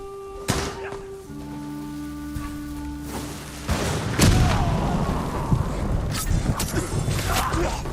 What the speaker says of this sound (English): I should throw a bomb in there, right?